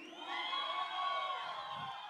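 Large outdoor festival crowd at a Cabo Verde music show, Santa Catarina do Fogo, shouting and cheering together in a sustained, loud wash of voices with high whoops.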